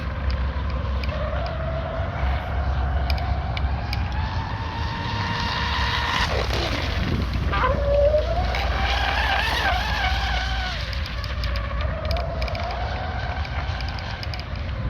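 A Cozy F1 T800 RC car on 6S power running in a tunnel, a high-pitched electric motor whine that rises and falls steadily, with a sharp skid midway, loud and sustained.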